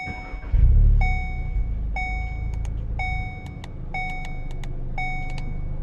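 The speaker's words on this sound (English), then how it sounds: "Now I can start the car." A tuned Golf R with an EQT Stage 1 COBB ECU tune cranks and fires with a short loud burst, then settles into a steady idle while a dashboard chime beeps about once per second.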